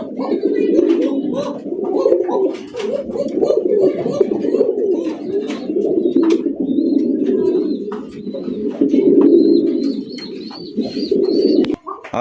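Fancy and racing pigeons for sale cooing together in a loft, a continuous close chorus of low, throaty coos with occasional higher chirps and flutters.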